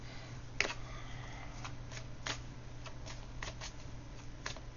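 Tarot cards being shuffled by hand, a series of soft riffling clicks and flicks spaced irregularly, close and quiet with no talk.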